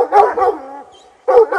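Black and Tan coonhounds bark at a treed raccoon, with a few loud, close bays and yips in quick succession, a brief whimpering tail between them, then another burst of barking.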